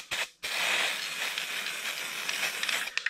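A can of black spray paint hissing onto perforated decorative ceiling panels in a room under renovation, with a short burst, a brief pause, then a long steady spray that ends in a few sputtering puffs.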